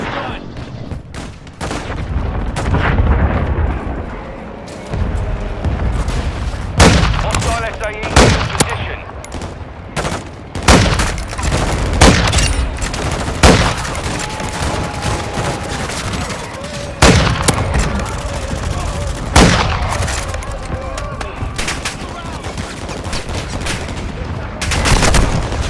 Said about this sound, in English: Friendly airstrike is down.